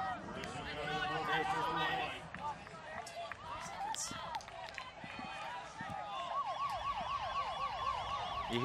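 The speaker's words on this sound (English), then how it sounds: "You hear the siren, that's the expiration of the clock for the soft cap." A wailing siren marking the soft cap clock expiring at a mixed ultimate frisbee national final rises and falls over crowd noise and voices, starting midway and continuing to the end.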